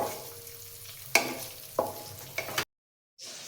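Onions and green chillies frying in oil for chicken biryani, a low steady sizzle broken by a few sharp stirring scrapes, close up, cutting to brief silence before the sizzle resumes.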